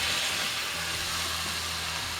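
Mutton for a Madras-style curry goes into a pan of sautéed masala and sizzles with a continuous, fairly loud hiss throughout, with no talking.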